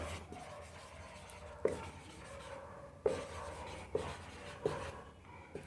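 A pen writes a note by hand on paper, giving soft, close scratching strokes broken by several distinct taps as the pen lifts and lands again.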